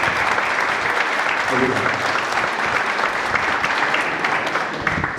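Audience applause fills a gathering in a Portuguese-speaking church setting, steady and loud from start to finish, with a man briefly thanking the crowd over it.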